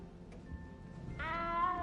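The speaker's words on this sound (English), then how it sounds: "You don't need to be frightened, little cat." A small cat in the video game Hogwarts Legacy lets out a short, fairly quiet meow with a thin whining tone near the end, set against low background ambience.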